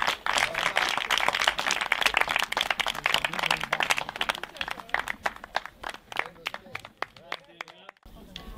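An audience breaks into steady applause at an Italian literary reading, with many hands clapping fairly close. The clapping thins into scattered claps before stopping abruptly.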